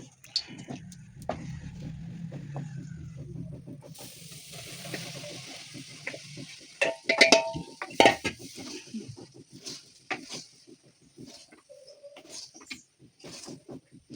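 Chana dal halwa roasts in ghee in a pan while a spoon stirs and scrapes against the metal, giving a low sizzle with repeated scraping strokes and sharper clinks later on.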